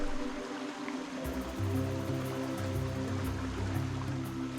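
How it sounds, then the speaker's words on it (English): A steady rushing flow of a jungle river on a tropical island fills the scene, continuous and moderately loud, with a low droning hum running beneath it. "While moving through the jungle, I heard the noise of a river"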